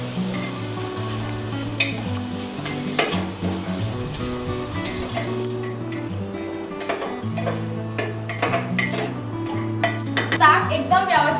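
Ginger garlic paste stirred into vegetables frying in a pan for soya vadi subji, with steady sizzling, spatula scrapes and occasional clinks of metal, under continuous background music.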